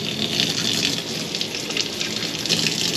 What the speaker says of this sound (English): we are going to turn on the hot water